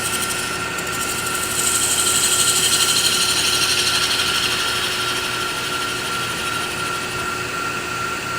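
A spindle gouge shaving wood on a spinning lathe while turning a ring box, a loud continuous whirring hiss with a steady motor whine that swells slightly as the cut deepens, with no talk.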